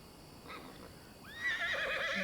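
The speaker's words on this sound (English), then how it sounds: "I hear a horse." A horse neighs in the Pathfinder: Kingmaker fantasy role-playing game, a rising whinny breaking in midway and trailing into a loud, quavering call over a quiet ambient background.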